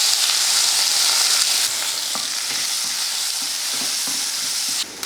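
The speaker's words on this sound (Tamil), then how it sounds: "எண்ணெய் காஞ்சதுமே கொஞ்சம் கடுகுளுந்து ஒரு பச்சை மிளகாய் ஒரு வெங்காயம்" Mustard seeds, urad dal, green chili and onion frying in hot oil in a home kitchen, a loud steady close sizzle with occasional soft stirring scrapes and no voices.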